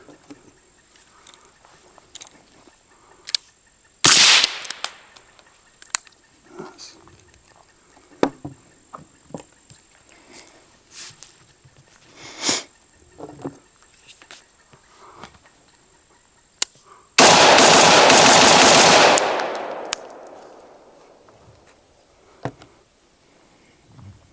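A 5.56 rifle fitted with a Stealth Additive Works Tisha suppressor fires two loud, sharp reports spaced well apart. The second one has a longer rushing tail, with soft clicks and handling noises in between.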